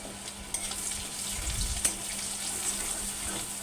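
Taro pieces fry in a pan with turmeric, giving a steady, close sizzling hiss with a few brief pops and clinks.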